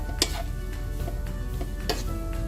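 Black rice with beef and peppers gets stirred in a pan with the heat off, a spoon scraping and tossing the grains in a few soft, close strokes over a faint low hum, with no talking.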